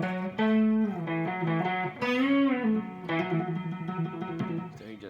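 A processed electric guitar plays a short melodic riff with bends and slides, thick with effects, alone and fairly loud.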